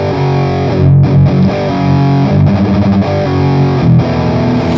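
Electric guitar played through an Orange high-gain amp simulation in AmpliTube 5, loud and saturated with heavy distortion, sustained chords and riffs shifting throughout with a touch of reverb.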